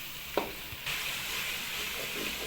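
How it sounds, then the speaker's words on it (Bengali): Masala for a chicken liver dish is stirred in a pan, a couple of clicks and scrapes before a sudden, steadier hiss takes over as a little water hits the hot spices. "হালকা জল দিয়ে এইভাবে নেড়ে নিতে হবে।"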